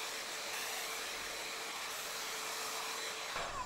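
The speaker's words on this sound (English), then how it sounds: "That's how you turn on the blow dryer." A Foxybae blow dryer runs steadily, giving a close, even whooshing whir with a faint motor hum throughout.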